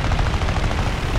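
Machine guns fire in a dense, continuous rattle during an I-16 Chung 28 air arcade dogfight in War Thunder, loud and heavy with engine roar filling the background.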